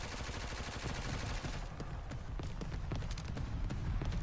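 Rapid SMG bursts in the VR shooter Forefront VR on the Paradise map, a fast rattling stream of shots that runs dense at first, then breaks into quicker separate pops, fairly faint overall.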